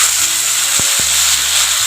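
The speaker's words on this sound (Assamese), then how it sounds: "সৰিয়হ, নহৰু, আদা পেষ্ট কৰি মেলাই গোটেইখিনি মছলাখিনি যিখিনি মই লৈছিলোঁ সেইখিনি মই ধুনীয়াকৈ ভাজি লওঁ" Mustard, garlic and ginger paste frying in a pan gives a loud, continuous close sizzle with a few low background hums underneath.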